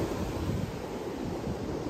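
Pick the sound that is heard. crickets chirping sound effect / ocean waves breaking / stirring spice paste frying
ocean waves breaking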